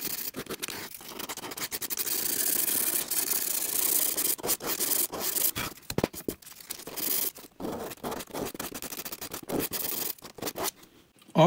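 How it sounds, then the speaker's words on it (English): Sandpaper scrubs a wooden viola neck up close in long, steady rubbing strokes, then shorter, choppier passes with brief pauses near the end. No voices. "After I sanded with a very rough one, the 150, this one, I continued with the 240 sandpaper"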